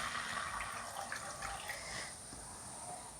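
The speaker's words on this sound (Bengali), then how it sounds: "এবার দিয়ে দিচ্ছি 1 বাটি পরিমাণে জল" A bowl of water poured onto jaggery in a pot, a continuous faint gushing pour tapering off, heard alone at low level.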